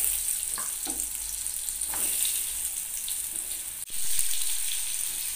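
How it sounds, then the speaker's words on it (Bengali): Pointed gourd (potol) frying in mustard oil in a kadai, giving a steady, close hiss and sizzle with faint stirring clinks, a short break near the end, then the frying resumes. "পটলগুলো এবার দিয়ে দিলাম ভাজার জন্য।"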